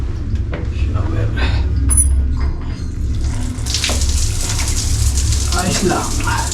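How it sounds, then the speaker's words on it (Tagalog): Water runs steadily from a shower in a hotel bathroom, a continuous hiss that swells louder partway through, with a low hum and some talk in the background. "Shower."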